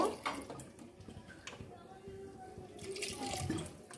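Water poured into a pan of mutton curry as it cooks, a soft continuous splashing and trickling that stays fairly faint through the clip and swells slightly toward the end.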